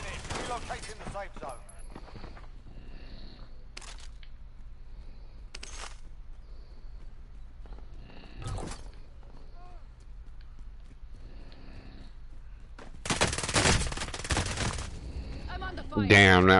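Gunfire in a PS4 video game: scattered single sharp shots spaced several seconds apart, then a louder, denser burst near the end, with quiet game ambience between.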